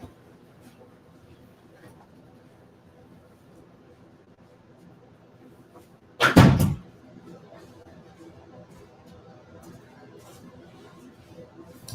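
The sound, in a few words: closing a room door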